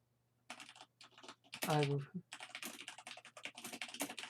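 A computer keyboard is typed on in rapid, uneven bursts of close clicky keystrokes, broken by one short tonal sound partway through, with no talking.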